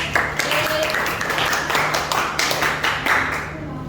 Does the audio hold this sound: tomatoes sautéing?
no